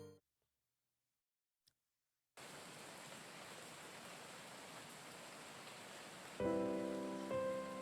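Rain in the video game Jumping at Shadows begins after a short silence as a steady, even hiss of falling rain, with soft musical tones joining near the end.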